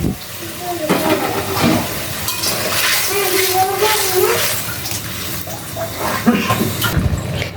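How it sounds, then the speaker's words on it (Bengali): Water comes to a rolling boil in a pan with fried shrimp, a close, continuous bubbling and churning with a few knocks of a utensil against the pan. "দেখো জলটা ফুটে উঠছে আমি ভাজা চিংড়ি মাছগুলো দিয়ে দিলাম"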